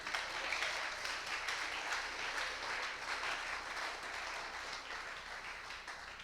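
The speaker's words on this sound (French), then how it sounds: "Est-ce qu'on peut acclamer pour le Seigneur?" A church congregation at a fasting and prayer service applauding for the Lord, a steady, dense roar of many clapping hands that holds for the whole stretch with little change in loudness.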